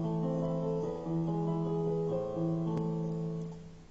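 A beginner plays simple repeating piano patterns, sustained notes and chords shifting every second or so before fading out, moderately quiet and with no voices.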